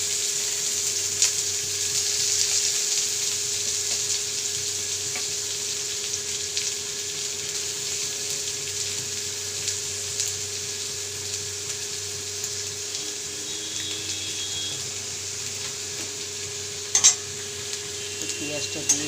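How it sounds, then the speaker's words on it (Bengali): Chopped onions fry in hot oil with nigella seeds, a constant close sizzle and hiss with a faint steady hum beneath, and a couple of brief utensil clinks near the end. "পেঁয়াজটা ভাজা হচ্ছে"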